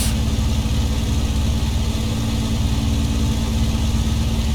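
An aircraft engine runs during a supercharger check, making a loud, steady, close drone that holds throughout.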